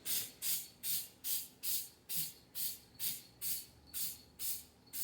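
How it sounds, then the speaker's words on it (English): Eleven short bursts of an aerosol spray can coating a subwoofer box hiss in a steady rhythm, each about a third of a second, close and fairly quiet, with no talking. "Doesn't smell like I'm going to instantly die while I'm spraying this stuff"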